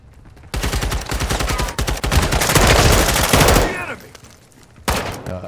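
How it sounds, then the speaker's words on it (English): Rapid bursts of shotgun and automatic gunfire in the Modern Warfare 2 Spec Ops mission Operation Atomgrad, loud and dense for a few seconds before tapering off into fainter shots. "Flipping blasting me in the face with a shotgun"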